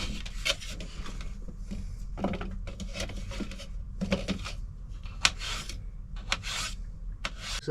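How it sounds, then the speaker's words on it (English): Peeled potatoes are sliced into small chips by hand, giving a run of irregular scraping, rasping cuts against a board, fairly close and without talk. "So that's the chips sliced."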